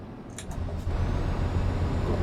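Other traffic rolls past in Euro Truck Simulator 2, a steady low engine rumble with a few faint hissing swishes early on.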